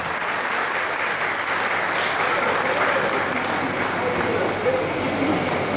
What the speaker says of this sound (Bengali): হাততালি, আরো একবার হাততালি।